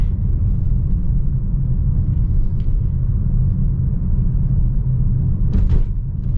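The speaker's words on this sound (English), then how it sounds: "there might be a little bit more road noise in this" Low, steady road rumble inside a moving 2025 BMW X3 or Range Rover Velar SUV, a constant droning hum with a brief faint brighter rush near the end, no talking.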